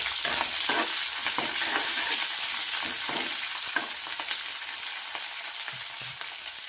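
About 50 grams of green chillies frying in oil with cumin seeds until crisp: a loud, steady, close crackling sizzle throughout, with occasional stirring scrapes and no talking.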